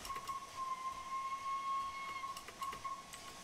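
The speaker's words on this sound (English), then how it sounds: "Do a toot of the whistle." A Flying Scotsman steam locomotive in Train Sim World 4 gives a sustained whistle toot, a thin steady tone riding over a soft hiss of steam, fairly faint and without speech.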